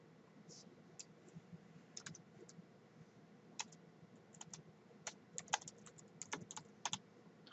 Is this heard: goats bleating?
no